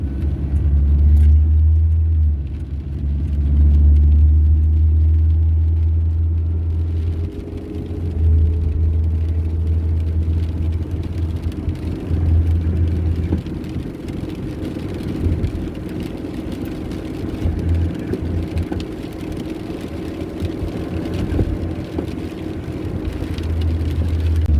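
A car's 1.9-liter single overhead cam, 100-horsepower four-cylinder engine runs with a steady, low, close thrum and a constant rumble throughout, with no talking.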